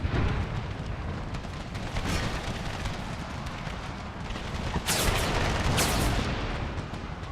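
Artillery fire in the video game Empire: Total War in a Confederate-era battle: a dense, continuous rumble of battlefield noise with heavier booming blasts breaking through around the middle and again near the end, no talk.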